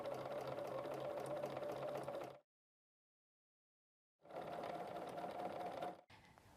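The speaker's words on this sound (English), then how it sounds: "Then put in a couple stitches and go ahead and wrap that binding back over the left toe and continue down the next side." A BERNINA sewing machine fitted with lap seam foot #70/#71 stitches binding in two steady, loud bursts of rapid mechanical whirring, separated by about two seconds of silence, with a brief quieter whir at the end.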